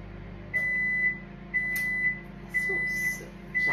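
A microwave oven hums steadily as it cooks a lobster bisque terrine, with a thin high tone pulsing in regular beats about every half second alongside the low running drone.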